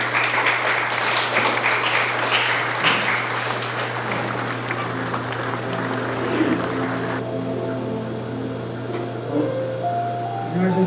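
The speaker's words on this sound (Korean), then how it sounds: "궁금한 마음 가득 담은 박수 부탁드립니다." Applause from an audience at a literature concert, steady close clapping that thins out partway, leaving a low steady hum and faint room sounds.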